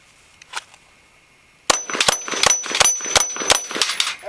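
A Glock 19 Gen 4 pistol fires a rapid string of shots, each sharp crack ringing the steel target plates with a metallic clang. One faint shot comes first, then about eight loud, close shots in quick succession.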